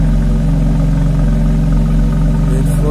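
A BMW X4M with a 3.0-liter twin-turbo straight six idles up close, its exhaust giving a loud, deep, steady burble without any clear rev.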